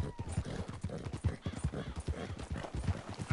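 A horse gallops in Red Dead Redemption 2, its hooves beating a steady, rapid clip-clop that runs loud and close throughout, with a faint whinny-like tone near the start.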